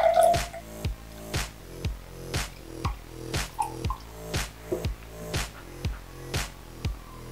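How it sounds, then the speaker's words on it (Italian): Alcohol dripped onto a layer of oil over water during a school open-day science demonstration, with bubbles rising: a steady series of about a dozen clear, evenly spaced drips and plops, close and moderately loud, with no talk. "Poi andiamo a mettere l'alcol, che l'alcol è più leggero dell'olio, quindi le bolle vanno a salire."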